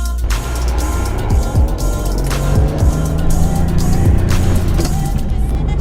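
A Porsche 993 Carrera 4S drives along with a steady engine drone and road noise from inside the cabin, the tone shifting as it accelerates through gears.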